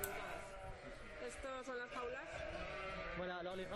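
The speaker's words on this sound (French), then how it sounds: "Les brebis peuvent aller et venir comme bon leur semble dans le bâtiment." Ewes bleating in a sheep barn where they roam freely, a dense chorus of overlapping bleats throughout, while a narrator speaks over the flock.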